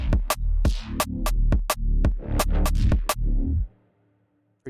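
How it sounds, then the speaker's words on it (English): Fast drum and bass drum pattern programmed in Ableton: punchy kicks and sharp snare hits in a quick, driving rhythm with bright cymbal transients, loud and clean, stopping abruptly near the end. "that drum pattern would sound like this"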